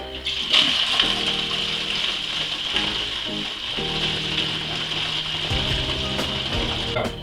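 Wine pours steadily through a funnel into a large glass demijohn, a continuous gurgling rush with shifting tones as the container fills.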